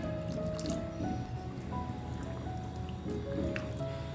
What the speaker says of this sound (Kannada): ಈಗ ಸ್ವಲ್ಪ ನೀರನ್ನು ಹಾಕೋಣ